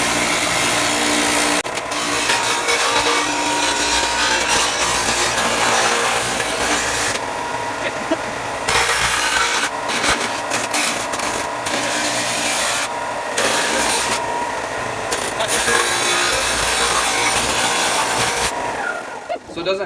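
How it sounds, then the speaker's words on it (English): Power sanding on a fabricated rocker panel for a Jeep YJ, a loud, continuous abrasive whir close to the microphone with a few brief dips in intensity. "Sanding."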